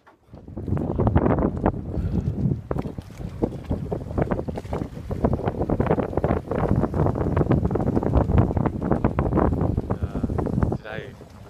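Strong wind on Lord Howe Island buffets the microphone in loud, continuous gusts, a roaring, rumbling rush that barely lets up.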